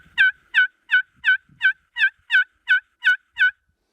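A slate turkey call worked with a striker gives a run of about ten crisp, evenly spaced yelps, close and clear against near silence.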